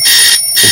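An alarm sound effect rings loud and shrill in two bursts separated by a short gap, with no talking over it.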